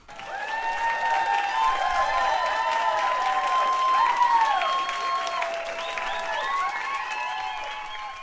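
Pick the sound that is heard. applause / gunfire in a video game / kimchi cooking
applause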